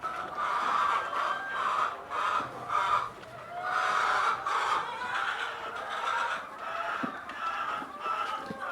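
Chickens clucking on a farm in the Philippines, a dense flock chattering continuously with overlapping clucks and occasional rooster-like calls, fairly close and steady with no talk.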